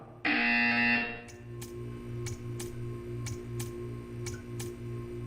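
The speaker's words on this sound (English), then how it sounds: "When you hear the buzzer, stare at the art." A loud electronic buzzer from the video game Portal 2 blares for about a second, then a steady low hum with sharp regular clicks continues.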